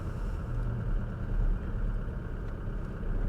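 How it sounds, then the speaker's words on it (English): Low, rumbling car engine noise idling and creeping along, steady and fairly close, with no voices. "Looks like we've got some slow moving traffic up here."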